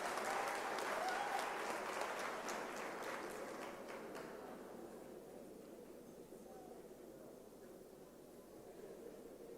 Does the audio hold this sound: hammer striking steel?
no